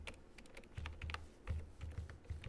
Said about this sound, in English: So as usual, we are going to type